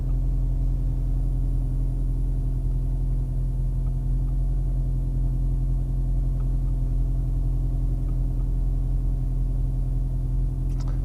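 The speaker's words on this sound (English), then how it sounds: "sitting here, one of the most interesting things is that this car is throbbing. It sounds pretty harsh" Inside a VW Golf R Mk8, a low, harsh engine throb drones steadily from the cabin with a constant rumble and no voices.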